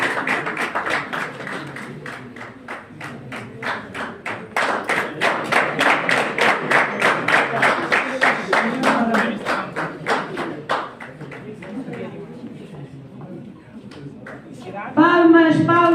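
Dense, rhythmic applause and clapping fill a diploma ceremony hall for a new journalism graduate, many hands close together over steady crowd noise, thinning out near the end as a voice speaks briefly.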